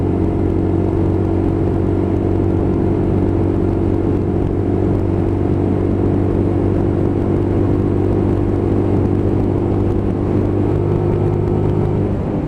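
A Lexmoto LXR motorcycle rides along a road, its engine a loud, steady droning rumble that holds for the whole stretch, with constant wind noise and no voices.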